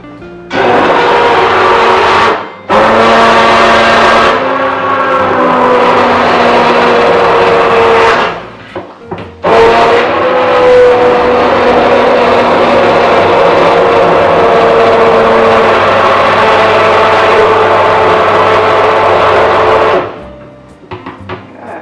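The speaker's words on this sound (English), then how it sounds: "with a hand stick blender it's a little bit easier" A hand stick blender purees soup, a loud continuous motor whir with shifting pitch, running in long bursts with brief stops near the start and middle before cutting off at the end.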